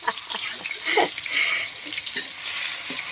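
Steady crackling sizzle of food frying in a hot pan, with scraping stir movements and occasional clinks running throughout.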